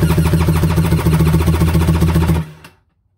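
A Yamaha 62T two-stroke PWC engine, a fresh 1200 with zero hours, cranks at wide open throttle during a compression check, giving a loud, fast, even pulsing drone up close that stops abruptly.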